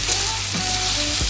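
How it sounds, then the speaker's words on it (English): Beaten egg mixture frying with onions in a pan, a steady, close hiss and sizzle with faint crackles throughout and no talking. "Then we shall pour this into our onion mixture."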